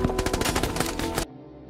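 Rapid automatic gunfire in an action film about a special forces mission, a loud burst of fast repeated shots lasting over a second before cutting to a low rumble.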